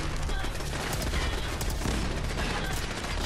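Gunfire from a hostile robot in Fallout 4 rattles on continuously, a dense crackling barrage that stays steady and moderately loud throughout without a clear break.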